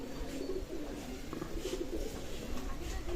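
Pigeons cooing steadily at a pigeon loft selling imported Pakistani teddy pigeons, soft repeated coos over a constant background hum, with no talk.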